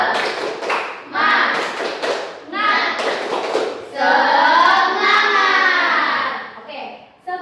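Classroom chant-clap routine led by a teacher with children joining, rhythmic bursts of hand clapping interleaved with spoken and sung chanting voices in a short pattern.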